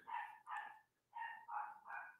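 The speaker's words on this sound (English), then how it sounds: "sounds like my dogs are restless upstairs" Several dogs barking upstairs in a house, five quick muffled barks in two bursts with a short pause between, moderately distant and alone.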